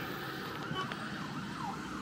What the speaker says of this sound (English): Here comes another fire truck.